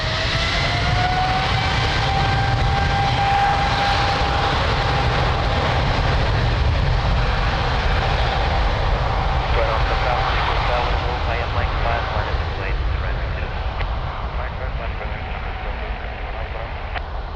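A large passenger jet, a Boeing 777, takes off from runway 02 at Lisbon Airport, its engines roaring loud and steady throughout with a rising whine, while radio voices from the control tower speak over the noise.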